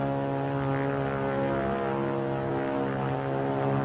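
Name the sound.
propeller plane engine flying overhead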